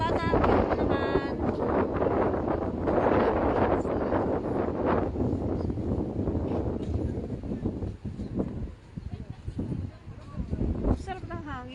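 Wind at the Manila Bay Esplanade buffets the microphone in a loud, steady roar for the whole stretch, with a voice talking briefly at the start and again near the end.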